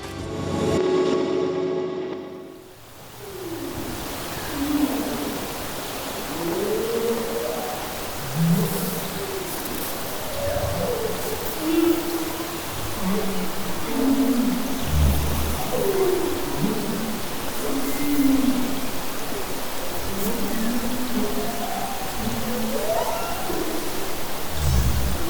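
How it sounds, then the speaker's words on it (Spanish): An underwater sea recording: a constant broad wash of ocean noise carries repeated low, moaning, whale-like calls rising and falling throughout, after a short quiet opening. "Vamos a ver cómo se escucha el mar"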